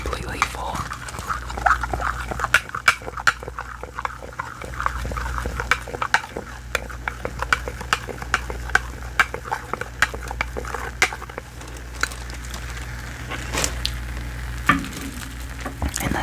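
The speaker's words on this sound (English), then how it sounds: "And again, I'm gonna stir before it gets completely full." A drink of cherry syrup and lemon juice with sparkling water stirred in a glass, giving steady fizzing crackle and scattered light clinks of the spoon, close and continuous, with a low hum underneath.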